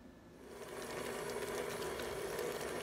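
An electric mixer whirs steadily at moderate speed while working dry ingredients into Mexican chocolate chip cookie dough, a continuous mechanical hum that slowly builds in level, heard alone.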